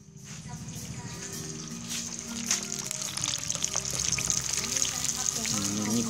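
Chicken pieces marinated in barbecue powder for homemade KFC-style hot and spicy fried chicken crackle and sizzle in hot oil, a busy, steady frying hiss that grows slightly louder as it goes.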